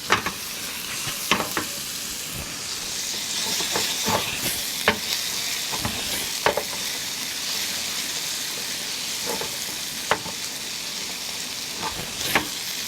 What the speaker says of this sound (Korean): 새우가 익을 때까지 살짝 볶아줍니다